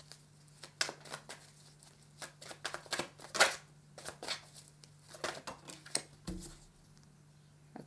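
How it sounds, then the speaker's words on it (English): Tarot cards being shuffled by hand, a steady run of soft riffling flicks and papery slaps, close and fairly quiet, with a low steady hum underneath. "I've been shuffling"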